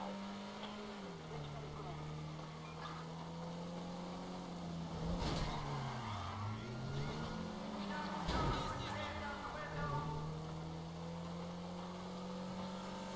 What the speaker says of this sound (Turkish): peşimizde bayağı bir polis aracı var arkadaşlar